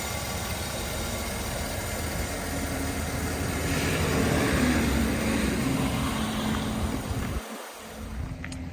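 A 2012 Chevrolet Silverado extended-cab 4x4 with a 5.3-liter V8 idles smoothly under an open hood, a steady low rumble that swells slightly midway and dips briefly before settling again.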